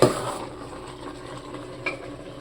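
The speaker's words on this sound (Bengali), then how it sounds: "এই যে রান্না করছি পায়েস রান্না করছি।" Payesh (rice pudding) stirred in a cooking pot, a spoon scraping and clinking against metal, close and fairly loud, with a sharper knock near the end and no talk.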